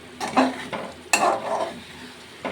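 A spoon stirs egg curry in a pan with a few scraping, clattering strokes over a soft simmering sizzle, close and fairly loud, with no talk.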